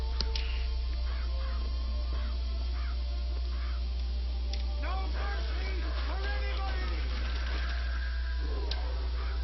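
Crows caw repeatedly in a video game as birds attack a character, harsh calls layered over one another against a constant low hum, with a dense cluster of caws in the second half.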